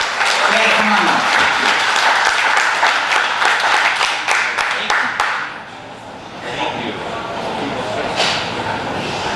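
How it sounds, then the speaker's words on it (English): A crowd at an evening political event applauds a candidate for Illinois Secretary of State, a sustained loud round of clapping that thins out and fades after about five seconds as a voice begins talking. "you're actually clapping for me"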